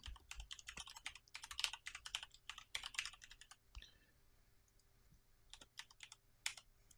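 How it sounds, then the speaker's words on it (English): A computer keyboard clatters with quick bursts of close key presses, dense flurries of clicks broken by short pauses and a single heavier thump midway, with no talk over it. "Why is the keyboard ass? It's not, like, letting me type properly."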